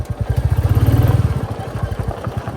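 A Royal Enfield Bullet 350 Battalion Black motorcycle riding off road on a hill trail, its single-cylinder engine thumping loud and close in a steady pulsing beat that rises then eases off.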